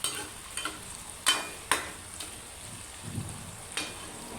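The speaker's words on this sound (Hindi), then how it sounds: "आप इसमें चम्मच हिलाते रहें और इसे पकाते रहें" Okra, onion, tomato and chillies stirred with a spoon while frying: a handful of sharp, irregular spoon scrapes against the pan over a faint, quiet sizzle.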